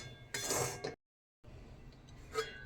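A metal lid clinks onto a cooking pot on a switched-off gas stove while making kadam puli pitha, a short bright clatter up close, followed by a gap of silence and then softer clinking and rattling of metal.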